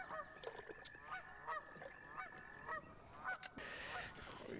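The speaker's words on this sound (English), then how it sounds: "You can hear the geese in the background." Geese honk repeatedly in the background near a 3.5-acre pond being stocked with fish, a steady series of short calls at a distance, faint but distinct, with no speech over them.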